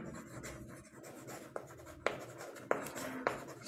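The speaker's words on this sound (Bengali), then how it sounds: "তাহলে আমি লিখব" A pen writes on paper while working a class 5 maths problem, giving soft scratchy strokes with a few sharper taps and scrapes, close up and fairly quiet with no talking.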